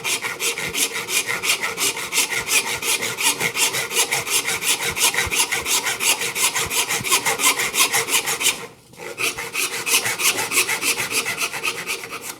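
A dovetail saw cuts a wood board with steady, even back-and-forth strokes at close range. The rhythmic rasping continues for about twelve seconds, broken by one short pause midway.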